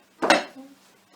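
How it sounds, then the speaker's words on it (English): Carrots dropped into a casserole pot land with a single sharp clatter against the metal, followed by a brief fading ring, close by and otherwise quiet. "Pop in the carrots,"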